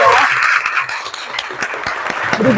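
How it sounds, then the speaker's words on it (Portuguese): An audience claps for the guests at a regional business meeting, a dense, fairly loud patter of applause that holds steady, with a voice speaking over it. "uma salva de palmas aos nossos convidados"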